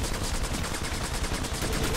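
Rapid continuous gunfire in the multiplayer shooter Section 8: Prejudice, dense automatic bursts filling the whole moment, loud and close, with no talk over it.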